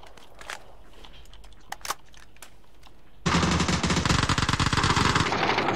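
Machine-gun fire in a video game breaks out suddenly as a loud, rapid, continuous burst after a few scattered quieter clicks and thumps, sustained to the end.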